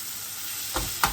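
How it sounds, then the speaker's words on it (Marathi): Potato cooking with spices in a pan gives a steady broadband sizzle throughout, with two brief louder scrapes near the end as the mixture is stirred and turned. "बटाटा थोडा मसाल्यांबरोबर परतवून घ्या"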